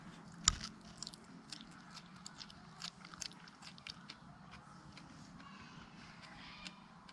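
Close, soft crunching and biting on a fresh arugula leaf picked from a garden, irregular chews with a sharper first bite, alone with no talking.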